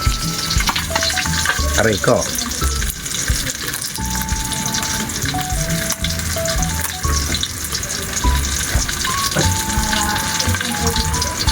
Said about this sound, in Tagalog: Dito naman po tayo sa prito.